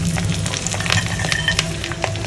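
Dried red chillies, garlic and ginger sauté in oil in a pan, giving a steady, dense sizzle with light scrapes and clinks of a spoon, fairly close and loud, with no talking.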